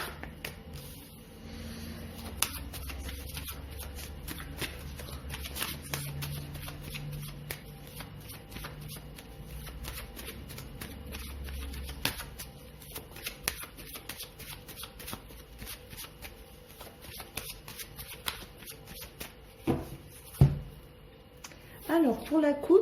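A deck of tarot cards is shuffled and cut by hand, giving soft riffling and tapping sounds at close range while a person talks quietly.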